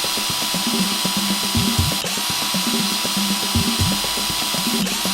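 Power drill with a center drill boring a pilot hole for a door hinge in a routed jamb recess, a close, steady whirring grind with rhythmic bursts and short pauses throughout.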